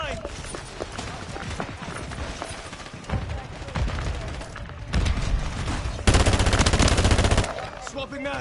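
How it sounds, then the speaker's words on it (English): Rapid automatic gunfire and bursts in a Modern Warfare III firefight, loud and dense with heavier volleys toward the end, while voices shout combat callouts over it. "Taking enemy fire!"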